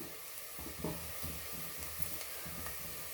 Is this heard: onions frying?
yes